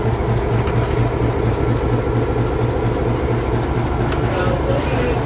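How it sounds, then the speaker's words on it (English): Chattanooga Choo Choo locomotive rolling past a stopped passenger train, a loud, steady rumble with a rhythmic low clatter throughout and no break. "the locomotive is going to go past our train"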